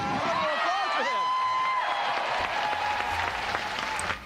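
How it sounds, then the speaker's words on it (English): An audience bursts into applause, steady clapping that holds strong for a few seconds, with a voice speaking over the start before it fades. "Let's hear a little applause for them."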